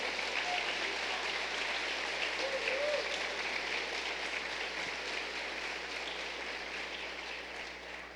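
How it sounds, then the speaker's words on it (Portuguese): A church congregation applauds during a sermon, steady broad clapping from many people heard at a distance and fairly faint, fading slightly toward the end. "Dê um aplauso a Jesus de todo o seu coração."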